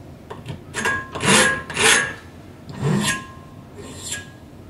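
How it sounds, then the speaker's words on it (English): A hand file rasping across a metal bicycle frame, several slow, separate strokes with short gaps between them, close and moderately loud, with no talk over it. "You can take the finer file and clean it up"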